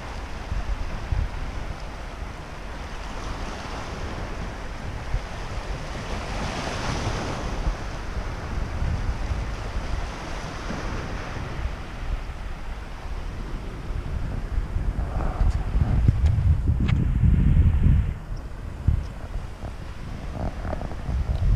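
Black Sea waves wash onto the shore in the evening as wind buffets the microphone, a steady rushing roar that swells louder for a few seconds near the end, with no voices.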